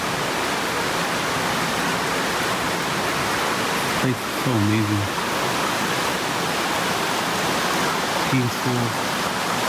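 Water steadily flowing and dripping at a quiet off-trail spot, a dense continuous wash of sound under brief, soft speech from two people.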